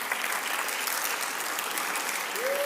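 Applause from a church audience, steady and dense, filling the room at moderate volume with no talk over it.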